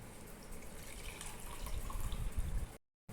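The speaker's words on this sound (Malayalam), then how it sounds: "ഇത് മറ്റൊരു ഗ്ലാസ്സിലേക്ക് ഒഴിക്കാം" Chilled hibiscus tea poured from one glass into another, a steady liquid trickle and splash running for nearly three seconds before stopping abruptly.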